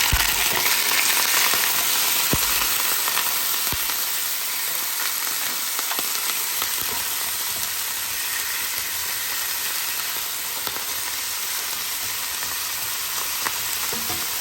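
Washed, cut lamb sizzling in a hot pan, a loud continuous hiss and crackle that holds steady throughout, with a few faint clicks and no talking.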